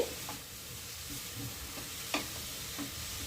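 Grated radish stirred and frying in a pan for radish paratha, giving a steady low sizzle with a few faint scrapes of a spatula, alone and quiet.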